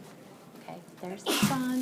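A single sharp sneeze bursts out close by in a classroom while a teacher keeps talking before and after it.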